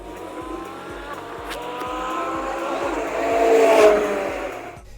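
A Ferrari 458 Italia engine roars and whines through gear changes on a race track, building louder toward the end with a rising scream of speed.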